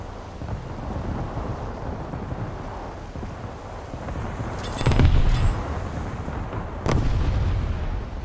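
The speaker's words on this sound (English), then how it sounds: "Shots being fired" Heavy naval gunfire in a warship video game, a constant deep rumbling barrage with two louder booming salvos near the end. No talking.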